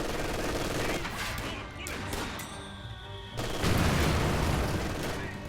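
Machine gun fire in Company of Heroes 2 rattles in dense, loud bursts mixed with booming explosions and crashing impacts, dipping briefly before swelling again into heavy battlefield noise.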